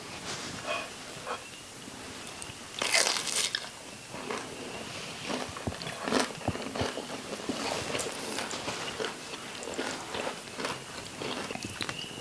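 Bites and chewing on a crunchy pan-fried southern pork chop, close and fairly quiet, with crisp crunching bursts through the clip and a louder bite near the start, with no talk.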